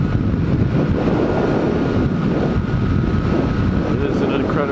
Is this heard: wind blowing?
yes